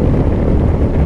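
Wind roars against a windshield while riding a Yamaha XTZ Lander 250 motorcycle on the highway, a loud steady low rumble and buffeting alone without speech.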